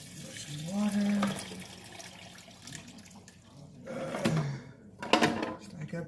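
Tap water runs into a cooking pot in a home kitchen in uneven bursts, splashing and gurgling loudly then easing off, with faint voices and kitchen clatter between pours.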